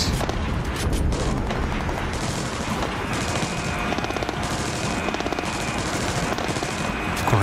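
Rapid bursts of video game gunfire from a US military force rattle continuously over a dense, noisy background, loud and sustained throughout with no voices.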